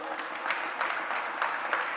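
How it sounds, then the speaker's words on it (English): A small group claps, a short patter of applause at moderate volume with no voices over it. "let's give all of our speakers a round of applause if we can"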